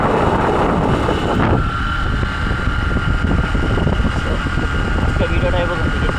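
Strong wind gusting on a foggy, cold road at about 12 degrees Celsius, loud continuous buffeting rumble across the microphone, with someone talking over it throughout.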